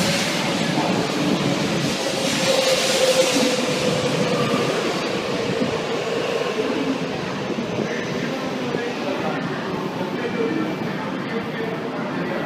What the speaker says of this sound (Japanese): 22番線列車到着いたします。